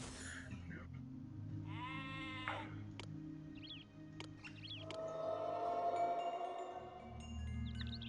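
Sheep bleat in the Zeus: Master of Olympus city-building game, with a wavering harmonic bleat near the start, then shorter bleats and bird-like chirps over a steady low game hum.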